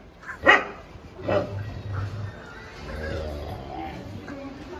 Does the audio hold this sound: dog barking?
yes